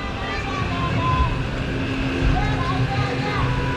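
Steady mechanical engine drone from an amusement park ride at a lakeside park in Nepal, a low continuous hum running throughout at close range, with people talking over it.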